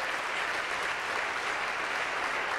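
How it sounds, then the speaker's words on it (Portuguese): A church congregation applauds in a dense, continuous wash of clapping that stays steady and fairly loud from start to finish, with no distinct voices over it. "Quem pode aplaudir o Senhor mais uma vez?"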